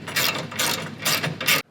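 A ratchet wrench tightens the bolts on an Ironman 4x4 Raid front bumper being fitted to a RAM 1500 DT, giving four loud, close bursts of rapid clicking with short pauses between strokes.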